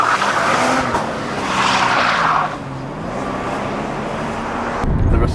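Heavy 4.0-litre cast-iron straight-six in a 1996 Jeep Cherokee XJ pulling hard under acceleration, a loud, continuous engine roar with shifting pitch and a sharper burst near the end.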